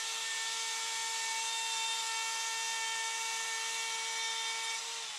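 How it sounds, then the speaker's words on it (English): A plunge router cuts into a kitchen worktop with a loud, steady high-pitched whine and roar that holds constant throughout, close up, with no voices. "Lowering the bit about 6mm each time, using the turret and depth stop thing on my plunge router."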